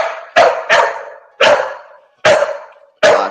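A dog barks five sharp, loud times up close, each bark separated by a short pause, with no other sound around it.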